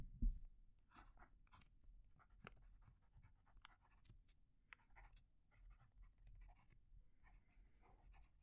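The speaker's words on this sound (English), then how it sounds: "write the same phrase, just so you can hear that pen writing" A fountain pen scratches across notebook paper in quick strokes and short bursts, faint and close in a quiet room, with brief pauses between words.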